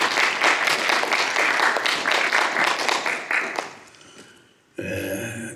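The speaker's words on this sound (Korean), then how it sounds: "박수 한번 주세요." Sustained applause from a church congregation during a Thanksgiving service at a Baptist church in Frankfurt, dense clapping for several seconds, fading out before a brief burst of other sound at the end.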